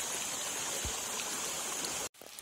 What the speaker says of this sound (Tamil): ஃபால்ஸ் வந்தாச்சு